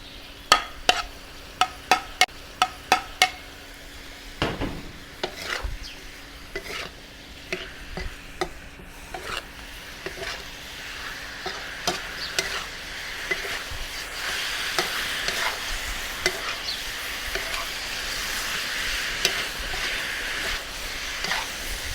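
Rapid clattering of a utensil against a pan with steady sizzling that grows louder as fried pork and pickled cabbage hit the hot oil, no voices.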